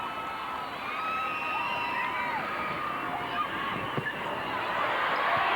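Spectators at a 1996 high school girls' volleyball championship between Breese Central and Mount Pulaski roar after a block, a loud, sustained crowd cheer with shrill whistles and yells rising above the noise of the gym.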